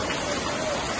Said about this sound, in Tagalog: Mahira daw ang ulan.